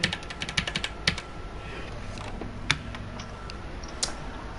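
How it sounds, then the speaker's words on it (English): Keys on a rainbow computer keyboard are typed in uneven bursts of sharp, close clicks, alternating quick clusters with short pauses over a quiet background. "Just my rainbow keyboard."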